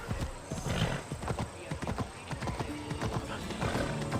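Horse hooves clip-clop steadily in Assassin's Creed Odyssey as a mount trots through the city streets of Athens, a close, repeating rhythm over busy game ambience.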